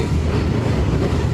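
A subway train rumbles past in a steady, loud, continuous roar, with a low mechanical drone and no voices.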